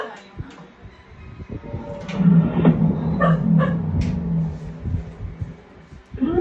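Dogs barking somewhere behind a home makeup session, the barks scattered, loose and fairly distant, blended into a steady murmur of household noise.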